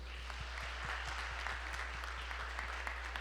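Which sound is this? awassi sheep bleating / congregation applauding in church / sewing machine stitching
congregation applauding in church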